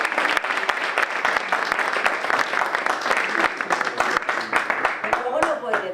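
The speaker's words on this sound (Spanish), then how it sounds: "Un aplauso para vos." An audience at a literary short-story reading event gives a steady round of dense, close clapping that holds at an even level throughout.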